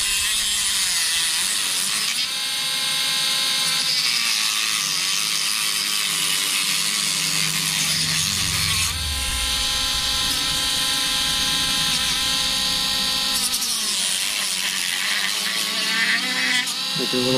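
Plastic of a PlayStation 3 controller case being trimmed with a rotary tool, a continuous high whirring grind that shifts in pitch as it bites into the plastic, close and loud throughout.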